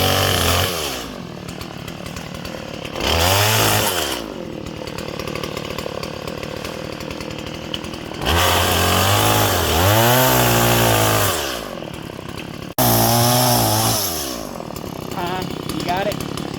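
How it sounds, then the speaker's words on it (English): Chainsaw cutting through a suspended log with a top relief cut and a bottom cut, the engine revving up in several loud bursts between lower idling stretches, with a person talking at times. "hopefully my chainsaw doesn't get stuck"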